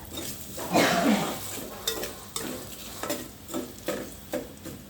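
Spices tempering in hot oil for an amaranth, tomato and green chilli sour curry give a low sizzle, broken by several sharp stirring scrapes and clinks against the pan at irregular intervals.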